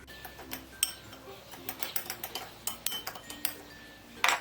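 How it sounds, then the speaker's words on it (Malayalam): A spoon stirs bread crumbs and a tablespoon of white sesame seeds together in a bowl, making a series of light scraping taps and clinks at an uneven pace, close by. "ഇനി ഇതിലേക്ക് ഏകദേശം 1 ടേബിൾ സ്പൂൺ വെള്ള എള്ളും കൂടി ഇട്ട് മിക്സ് ചെയ്ത് കൊടുക്കാം."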